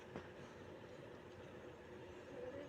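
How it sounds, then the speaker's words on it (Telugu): Siddipet DEMU passenger train at Nacharam railway station, a steady low rumble of rolling carriages with a brief sharp squeal early on and a faint whine near the end, continuous and fairly close. "ఈ ట్రైన్ అయితే సిద్దిపేట డెమో అనమాట"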